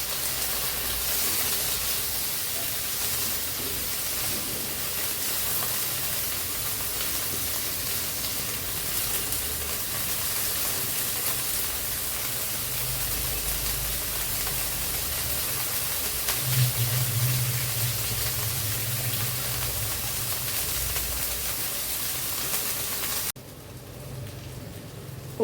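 Onions sizzle in hot oil in a pan for a Bengali fish roe and prawn curry, a steady dense crackling hiss that carries on evenly, close by, until it drops away abruptly near the end.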